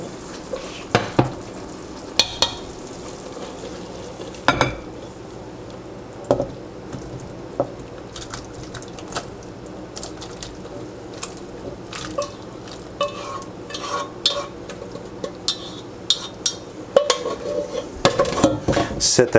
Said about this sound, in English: So now what I'm going to do is transfer this into a separate bowl.